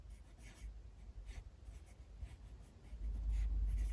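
A pen scratches marks onto paper up close during a papercraft session, with quiet irregular strokes followed by louder, steadier scribbling near the end.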